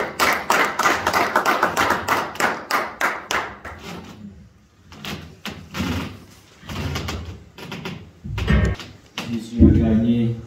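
A church congregation breaks into rhythmic applause in praise, quick, loud, close claps that fade after a few seconds, followed by scattered claps and thumps under a voice speaking.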